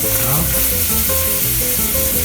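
Eggs frying in salsa in a pan over a wood fire give a loud, continuous sizzle close up, with soft stirring scrapes beneath it.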